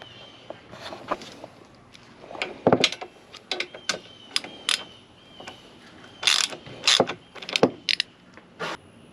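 A ratchet removing bolts from a Can-Am Defender side-by-side door, producing bursts of rapid clicking and metallic clatter, close up and separated by short pauses.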